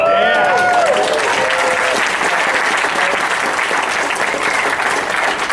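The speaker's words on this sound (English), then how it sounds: "I'd like to give a big round of applause for the people here" Sustained audience applause fills a fan convention panel hall at Dragon*Con 2012, dense and steady throughout, with brief cheering voices at the start.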